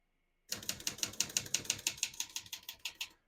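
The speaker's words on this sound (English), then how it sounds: "As you can see, all the keys type nice and none of them skip or stick." A 1966 Olivetti Lettera 33 vintage portable typewriter typing: about fifteen crisp, evenly spaced key strikes in a steady rhythm, close and loud against a quiet background.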